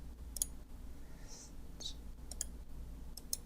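Right mouse button clicks in 3D design software, a few sharp, sparse clicks over a low steady hum, with faint speech in the background.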